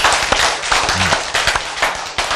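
Audience at a Korean lecture clapping hands together, a dense burst of sharp claps that stays loud and fairly even for the whole stretch.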